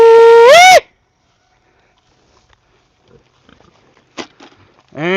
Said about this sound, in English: these pigs are coming across and tearing the forage up